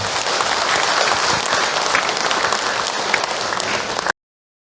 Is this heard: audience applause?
yes